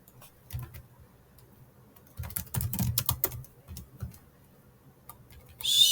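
Typing on a computer keyboard, with scattered soft key taps that build into a quicker burst in the middle, close and fairly quiet with no voices.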